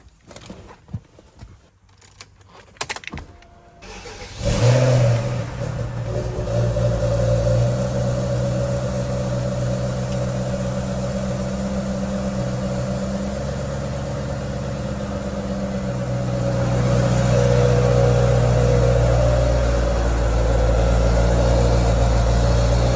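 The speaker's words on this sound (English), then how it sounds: "time to fire it up. Let's see what this V8 sounds like." The V8 engine of a BMW 545i cranks with some clatter, catches, and settles into a loud, steady rumbling idle, the revs rising a little toward the end.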